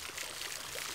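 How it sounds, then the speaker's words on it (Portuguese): Water leaks in a Robocar Poli cartoon, a soft, continuous hissing pour that is fairly faint and steady with no voices over it. "A água está vazando!"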